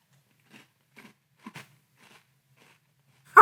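Great Value Red Velvet Cake cereal being crunched up close: about five soft, brittle crunches spaced roughly half a second apart in a quiet room, ending in one louder burst.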